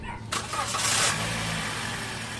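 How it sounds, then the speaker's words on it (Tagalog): A 2023 Toyota Avanza engine cranks and catches after an oil change, a brief starter burst settling into a steady, close idle hum with faint background voices. "Tapos, pa-start ko ngayon dyan yung makina."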